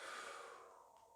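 One long breath is pushed out during a shoulder stretch in a home workout circuit, close and airy, fading away over about a second.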